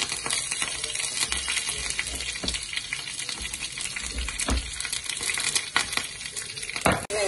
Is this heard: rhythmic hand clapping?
no